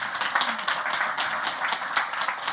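An audience at a fundraising event claps in steady, dense applause, many hands at once with an even rhythm and no break.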